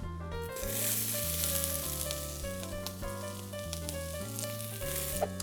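Bell peppers fry in a little saved bacon grease in a pan, giving a steady close sizzle beneath soft background music.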